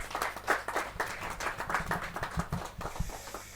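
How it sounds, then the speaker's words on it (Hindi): Continuous clapping from a crowd at a Hindi poetry gathering, dense and uneven, with a few sharper nearby claps standing out. "जोरदार तालियों के साथ"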